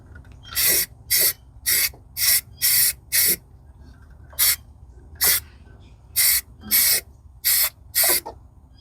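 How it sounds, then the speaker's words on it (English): Short bursts from a spray can hiss onto a coolant hose in the engine bay of an NA Mazda Miata, about a dozen separate sprays in an uneven rhythm, close and fairly loud, with quiet gaps between them. "I think that's a coolant hose that I just ended up spraying."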